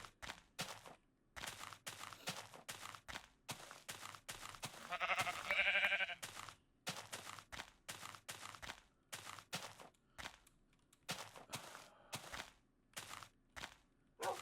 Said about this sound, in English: Okay, I heard a sheep.